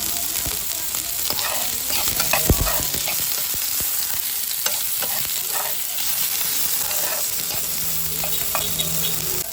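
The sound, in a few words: smoked fish (tinapa) and tomato frying in very hot pan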